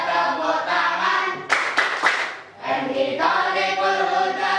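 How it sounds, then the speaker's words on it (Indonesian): A group clapping hands together in a rhythmic classroom chant, with a burst of sharper claps in the middle among sung or chanted voices. "Bersama-sama kita tepuk tangan."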